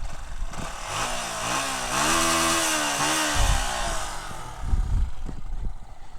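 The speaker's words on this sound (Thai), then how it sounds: "เดี๋ยวฟังเสียงท่อเดิมเครื่องเดิม" Yamaha M-Slaz motorcycle running its stock engine and stock exhaust after an engine rebuild, revving up and down in loud, close bursts with a rising and falling pitch and no talk.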